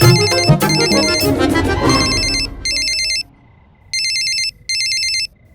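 An electronic telephone ringtone plays loud and alone. It starts with a bright melodic phrase, then switches to a repeating pattern of high beeping bursts separated by short silences.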